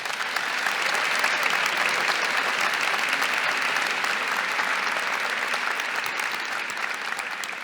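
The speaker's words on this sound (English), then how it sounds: "A round of applause for our college fellows." A large audience at an honor convocation ceremony applauds college fellows, a sustained, even roar of clapping that holds steady throughout without talk.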